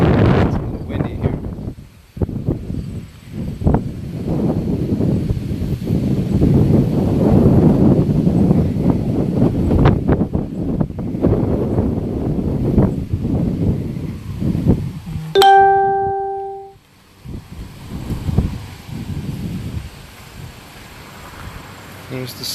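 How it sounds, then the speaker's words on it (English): Gusty wind outdoors beside a dam, buffeting the microphone in rough bursts, with someone talking over it and a brief ringing clink near the end. "It's a little windy here."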